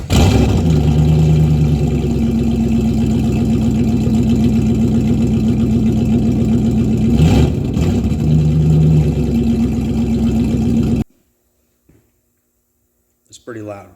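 A Jeep ZJ with a 5.2 liter 318 engine and straight pipe exhaust idles loud and deep with a steady throbbing rumble, then briefly revs before cutting off into silence, followed by a short bit of talking.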